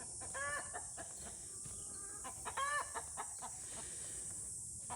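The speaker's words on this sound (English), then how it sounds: "That chicken is loud. Laying an egg or something." A chicken in a garden clucks its egg-laying song in two loud bursts of repeated calls, with quieter clucks in between over a steady background hiss.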